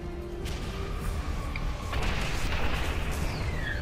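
Air defense gun in Quake 4 firing a dense barrage of heavy booming shots, a continuous rumbling roll of blasts with sharper bursts over battle noise, growing louder near the end.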